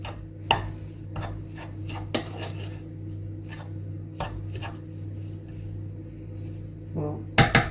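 Grated and mashed potatoes are mixed with flour and baking powder in a bowl for Irish boxty bread, with a utensil knocking and scraping in irregular thumps and clinks close by, ending in a few louder clatters.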